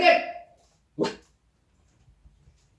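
A pet dog barks twice indoors, a sharp first bark and a shorter second one about a second later, followed by faint small noises and quiet.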